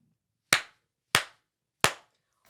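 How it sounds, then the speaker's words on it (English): Three sharp hand claps, evenly spaced about two-thirds of a second apart, ring out close and alone in a quiet room to sync a recording. "I'm gonna clap 3 times just to sync it up."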